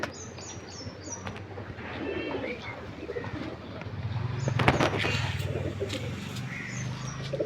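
Pet pigeons coo in repeated low, throaty calls on a rooftop, moderately close, with a few higher bird chirps and steady outdoor background noise, including what may be passing traffic.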